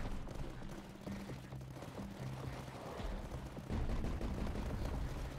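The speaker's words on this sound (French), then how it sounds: "Donc un canon anti-bouclier." Anti-shield cannon fire in the video game Tower Dominion rattles in dense, overlapping volleys of booming shots, loud and continuous with heavier blasts toward the end, and no voices.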